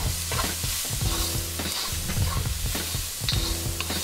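Fish fillets and curry powder are stirred in a hot pan, with a steady loud sizzle and the repeated scrape and clatter of a utensil close by.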